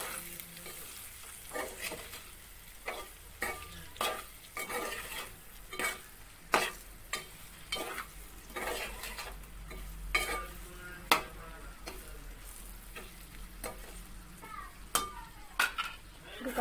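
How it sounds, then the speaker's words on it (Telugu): Masala is stirred into a chilli curry in a pan: repeated scraping spoon strokes over a soft sizzle, with no one talking. "మిగిలిన ఈ మసాలాను మొత్తం ఇందులో వేసుకోవాలి. వేసుకొని ఒకసారి కలుపుకుందాం."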